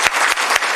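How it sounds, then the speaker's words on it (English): A short, loud burst of audience applause at a live agriculture announcement event in Surrey, dense clapping that fills the brief moment without pause. "Can I get a big round of applause?"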